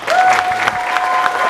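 An audience at a summer youth retreat applauds speaker Chad Hymas: dense, steady clapping fills the hall with a faint cheer and thin tone riding through, loud and continuous for the whole moment.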